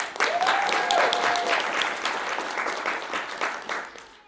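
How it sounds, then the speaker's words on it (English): An audience at an anime festival cosplay panel in Orlando applauds steadily for several seconds, a full, even round of clapping that slowly tapers off near the end. "So everyone, please give her a round of applause."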